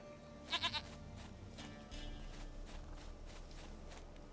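A short, quick bleat from a goat in The Witcher 3: Wild Hunt rises over a low background bed, followed by soft rustling and thuds.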